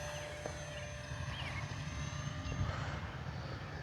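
Steady propeller-engine drone from an E-flite P-51D Mustang 1.2m RC model plane, rising slightly as throttle is added, continuous and moderately loud.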